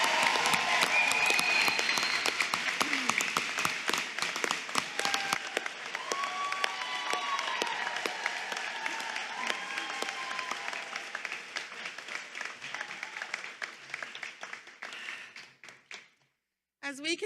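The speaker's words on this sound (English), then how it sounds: "one more round of applause for these fabulous graduates." A large audience at a master's commencement ceremony applauds graduates in a long, dense wave of clapping that gradually thins out and fades near the end, with a few cheers mixed in.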